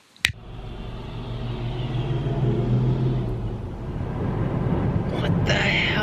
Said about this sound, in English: That was like 10 or 12 cop cars taking up the entire road.